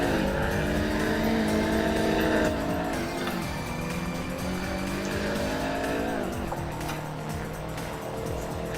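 Rally cars, including a Datsun 240Z, launching off the start on the Myogi touge mountain pass, a loud engine drone with rising and falling revs and gear changes, no talking.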